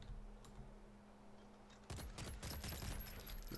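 Video game gun firing in a quick rattling burst that starts abruptly partway through, loud and close, after a quiet stretch with a low hum.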